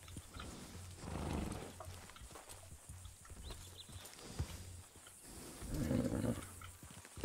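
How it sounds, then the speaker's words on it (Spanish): Horses in the RedM video game, with soft snorting and low rumbling neighs rising and falling twice over a steady ambient hum, fairly faint and with no talk over it. "Hay mucho caballo."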